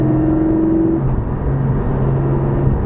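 Steady low engine drone inside the cabin of a 2020 Porsche 718 Cayman GT4 with the exhaust turned off, loud and continuous, holding a constant pitch with faint tonal hum under it.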